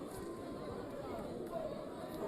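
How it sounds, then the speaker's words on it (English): Crowd at a boxing fight between Mandonga and Wanyonyi near the end of the fifth round, a steady dense murmur and chatter of many spectators filling the whole moment at a constant level. "You can hear the crowd."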